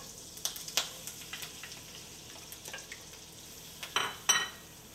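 Finely minced shallots sauteing in melted oil and butter in a pan, a soft steady sizzle with scattered stirring clicks and utensil taps, close and fairly quiet, with no talk.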